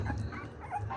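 American Bully puppy about three weeks old gives soft, faint whimpers and yips over a brief moment, close by and quiet.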